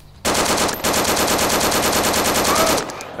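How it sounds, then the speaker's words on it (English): Sustained automatic gunfire in the video game DayZ Standalone, a rapid, loud, unbroken burst after a short quiet start, with one brief gap, running for about three seconds. "He's shooting me. He shot me."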